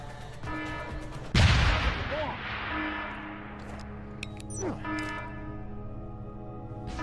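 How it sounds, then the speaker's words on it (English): Deus Ex Human Revolution gunfire: a single loud blast cuts through a humming in-game ambience, followed by fainter scattered shots and sharp electronic effects. "That guy's shooting at our last known position."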